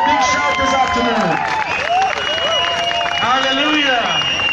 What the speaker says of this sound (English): Give a big round of applause, a big shout this afternoon